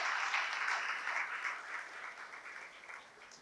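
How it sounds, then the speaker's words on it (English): A crowd at an anti-drug awareness event applauds the district minister Dinesh Gundurao, a dense patter of clapping hands that stays strong at first and gradually thins and fades. "Shall we have a big round of applause to him?"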